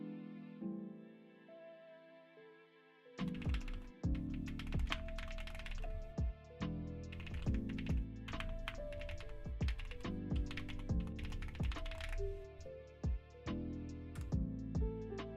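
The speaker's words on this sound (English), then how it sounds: "Let's see, what keyboard do I have? A Monsgeek M1." Typing on a Monsgeek M1 mechanical keyboard fitted with Gateron Baby Kangaroo tactile switches, with milky yellow linear switches on the number keys, modifiers and spacebar. A sustained burst of close, loud keystrokes clatters on without talking.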